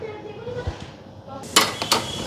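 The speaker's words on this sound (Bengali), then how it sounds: "এদিকে কড়াইটা ধুইয়া কড়াইটা বসায় দিলাম" A kadai is rinsed and set on the stove, producing a couple of sharp metallic clanks against a faint background hum.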